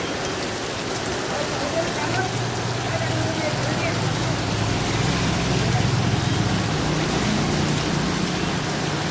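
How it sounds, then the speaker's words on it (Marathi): Heavy monsoon rain falling in Palghar, a dense, continuous hiss of rain on surfaces, loud and steady throughout, with a low rumbling undertone beneath. "सकाळपासून पावसाला दमदार सुरुवात झालेली आहे"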